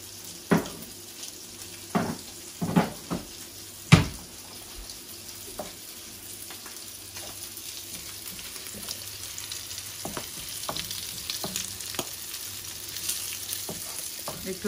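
Pieces of boal fish sauté in a pan, a low steady sizzle broken by sharp knocks and scrapes from stirring, several strong ones early, then lighter clatter, close with no talk.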